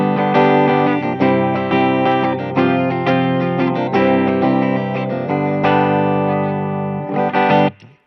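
Edwards mini Les Paul electric guitar through a Mesa Boogie amp with the tone turned up to 10, producing loud, full, bassy chords struck repeatedly. The chords ring close and sustained until an abrupt stop at the end, with no talking.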